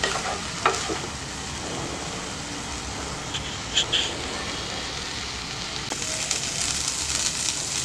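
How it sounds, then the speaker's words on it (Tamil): Mint and ginger frying in oil in a pan for chutney, a steady close sizzle that runs throughout, with a few light clinks and scrapes of a spoon and no voices. "இது நல்லா வதங்கட்டும்"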